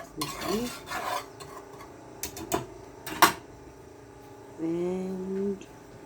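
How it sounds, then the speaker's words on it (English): Butter and flour being whisked together in a pan for a white sauce, with several close metallic scrapes and clinks against the pan, then a pause before a brief voiced sound near the end. "mixing my butter and my flour together"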